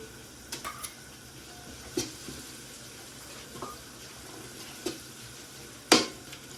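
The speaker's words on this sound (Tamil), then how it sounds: "இதையும் நல்ல வடிவாக அப்படி பிரட்டி எடுத்த பிறகு" Garlic ginger paste stirred into frying chicken biryani gives a soft, steady sizzle, broken by a few faint scrapes and clinks of a spoon against the pot, with one sharper knock near the end.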